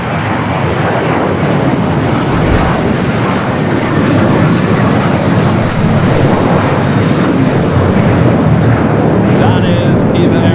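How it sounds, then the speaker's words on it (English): An 18-year-old EVA Air Boeing 777-300ER jet roars loud and close at Los Angeles International Airport, a sustained, broad engine rumble and hiss that holds steady throughout. "That is EVA Air Flight 12, the 777 at 300ER coming up from Taipei"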